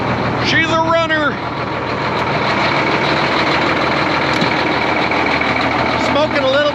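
A 1993 Peterbilt cabover truck engine idles steadily and loudly just after starting, a continuous low rumble throughout, with a brief reversing-style beep pattern near the start and a short voice near the end.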